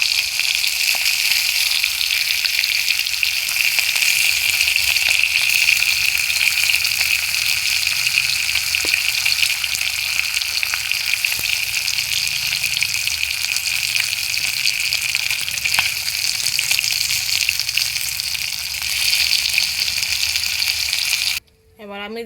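Fish frying in hot oil gives a loud, steady, dense sizzle that runs almost without a break for about twenty seconds and then cuts off near the end.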